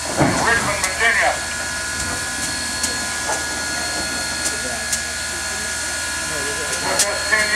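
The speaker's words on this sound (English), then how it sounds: "Steam engine number 630, built in 1904" Southern 630, a 1904 American Locomotive steam engine, hisses steadily on a turntable with occasional clanks and metallic taps, and a voice talks briefly over it near the start.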